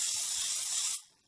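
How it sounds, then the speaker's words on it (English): Non-stick cooking spray hisses steadily from an aerosol can onto a pumpkin cheesecake pan for about a second, close and fairly loud, then cuts off abruptly. "Just give it a spray."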